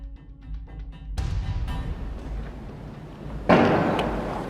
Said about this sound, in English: Which I think sounds like a door being slammed as hard as possible